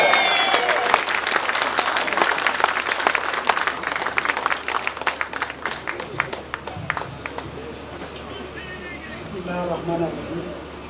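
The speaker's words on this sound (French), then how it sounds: "Je vous demande d'applaudir très très fort." Loud, sustained applause from a large crowd at an airport technical block inauguration ceremony, steady clapping that gradually thins out, with faint voices near the end.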